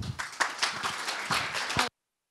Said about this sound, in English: Applaud to Alexander.